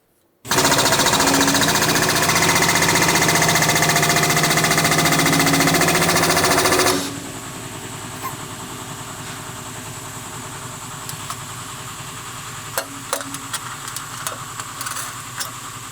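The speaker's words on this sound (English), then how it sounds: "let's go over to the hydraulic press" A hydraulic press pumping to press a crater maker dimple die, a loud steady mechanical drone for about seven seconds that cuts off abruptly, followed by quiet clicks and small knocks.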